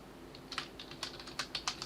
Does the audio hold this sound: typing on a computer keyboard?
yes